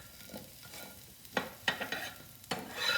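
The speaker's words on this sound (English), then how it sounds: "the more we stir them, the more all those potatoes are gonna get crispy" Diced potatoes for home fries sizzle softly in a frying pan while a utensil stirs them, giving several sharp scraping clacks over a faint background fry.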